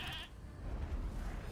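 A goat bleats once in the Elder Scrolls Legends card game, a short wavering cry at the start that fades into a steady bed of game music.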